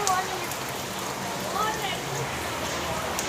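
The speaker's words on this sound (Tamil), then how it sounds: "மழை வர பெய்யுது" Steady rain falling outdoors with a dense, even hiss of drops and running water throughout, fairly close.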